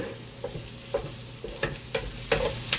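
Pork and hotdog sauté in a hot pan with a steady sizzle. A spatula stirs and scrapes in periodic strokes, each stroke a short clack against the pan, and no one speaks.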